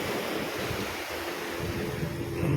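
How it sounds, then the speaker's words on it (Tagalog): Heavy waves break along Jumeirah Beach in Dubai in a constant rushing wash, mixed with wind rumble on the microphone, swelling slightly toward the end without any talking. "Lakas ng alon talaga."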